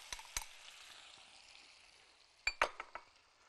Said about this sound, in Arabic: نحاول احنا نفضل نقلب فيه لحد ما لونه ما يحمر معانا